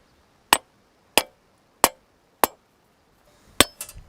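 A hammer strikes a scythe blade laid on a flat anvil, peening freehand: four evenly spaced sharp metallic clinks, a pause, then a quicker cluster of ringing taps, close and crisp against near silence.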